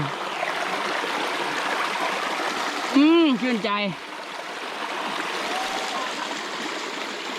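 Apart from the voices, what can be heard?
forest stream flowing, Taksin Maharat National Park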